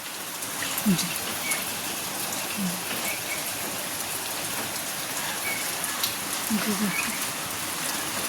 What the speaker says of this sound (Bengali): এই যে দেখো কত বৃষ্টি হচ্ছে